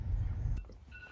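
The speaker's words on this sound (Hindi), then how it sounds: "पता नहीं किसी का अलार्म बज रहा है" A short electronic phone tone sounds after a burst of low rumbling, with thin steady beeping pitches lingering toward the end.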